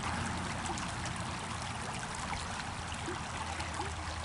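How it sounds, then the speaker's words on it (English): A widened creek flows steadily outdoors, giving a continuous broadband rushing and trickling wash, faint and even throughout with no voices. "I love the sound of the water."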